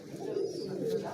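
Pigeons coo in a home loft of show birds: soft low rolling coos close by, with a faint chirp mixed in and no speech over them.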